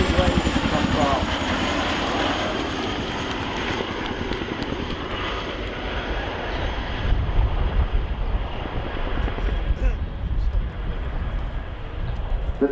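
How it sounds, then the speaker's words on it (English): A large helicopter flies a manoeuvrable display along the crowd line at an air show, its engine and rotor roar loud and steady throughout, mixed with wind buffeting the microphone. "The display today demonstrates how surprisingly manoeuvrable this large helicopter is."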